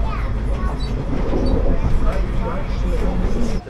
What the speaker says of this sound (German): Straßenbahn kommt hier angerollt